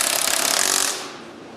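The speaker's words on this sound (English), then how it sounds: "now we will tight all the bolts and apply torque everywhere" A power tool drives and tightens track bolts in a loud, fast, rattling burst up close. It cuts off after about a second.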